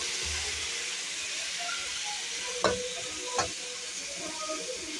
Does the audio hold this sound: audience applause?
no